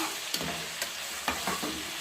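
Steady frying sizzle in a pan with several brief scraping knocks as tomatoes are stirred in, close and fairly quiet.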